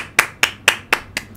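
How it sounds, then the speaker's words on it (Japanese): Five sharp hand claps in a radio studio, close and evenly spaced at a brisk steady rhythm, alone with no talk. "拍手。"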